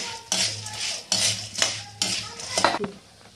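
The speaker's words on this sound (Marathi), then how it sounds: "भरपूर तेलामध्ये आपल्याला हे भाजून घ्यायचं आहे" Whole spices such as cinnamon and cardamom are roasted in plenty of oil for onion-garlic black masala, with a spoon scraping and clinking against the pan in repeated bursts and a faint sizzle underneath.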